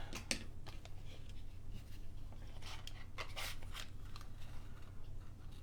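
Scissors snip through a piece of craft material at close range, a few quick separate cuts scattered over a low steady background hum, with no talking.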